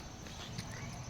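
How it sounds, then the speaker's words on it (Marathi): A buffalo walks along with steady hoof steps clopping close by over a background of low murmuring noise. "आमची म्हैस आता आलेली आहे"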